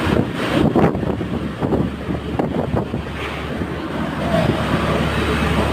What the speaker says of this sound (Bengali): প্রচন্ড বৃষ্টি ভাই